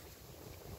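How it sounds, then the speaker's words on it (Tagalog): Strong wind buffets the microphone in a dense, rumbling roar, steady for the whole brief moment with no voices. "Lumakas ang hangin."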